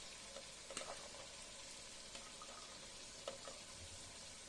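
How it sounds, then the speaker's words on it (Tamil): Soft, steady sizzle of beans sautéing in a pan for masala pasta, with a few faint clicks and scrapes of stirring, quiet and close. "அது கூடவே பீன்ஸ் போட்டு வதக்கலாம்."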